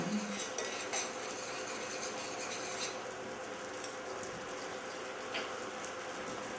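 Whisk scraping in a pan as Dijon mustard is worked into a steak Diane pan sauce, a soft, continuous rasping stir with faint clinks against the metal and no talking.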